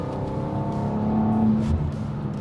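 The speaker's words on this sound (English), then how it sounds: "the in-gear acceleration is really quite something" BMW M2 with an 8-speed automatic pulling hard in gear, a steady, loud engine drone holding a sustained note with a slight rising tone, heard alone without talk.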